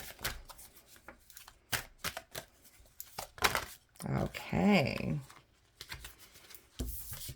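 Tarot cards are shuffled in quick riffling bursts with soft slaps between, close up, while a voice speaks briefly.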